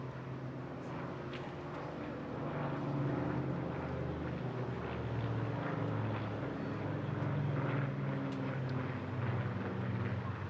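A Spitfire Mark 19, owned by Rolls-Royce, drones overhead at the Bournemouth Air Festival, its piston engine a steady, distant rumble that swells slightly midway, with faint crowd noise around.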